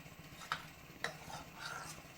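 Milk is stirred into a pumpkin payasam, a Kerala-style pudding, with a spoon scraping and clinking softly against the pot in a few distinct strokes, alongside a faint low sizzle.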